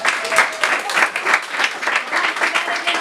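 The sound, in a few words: audience applause for debate candidates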